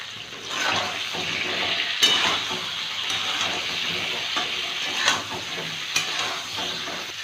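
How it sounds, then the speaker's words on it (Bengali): Pointed gourd (potol) frying in hot mustard oil, a steady close sizzle broken by stirring clatters and a few sharp scrapes against the pan. "তেলটা গরম হয়ে গেছে, পটলটা ভেজে নেব।"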